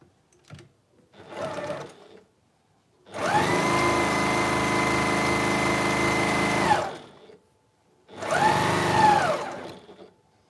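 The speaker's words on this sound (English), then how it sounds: "you're going to be stitching right off the edge of the fabric over there" A sewing machine stitches fabric for a storage pod: two short whirring bursts, then a long steady run of several seconds, then another burst. The loud mechanical hum starts and stops abruptly, with quiet gaps between runs.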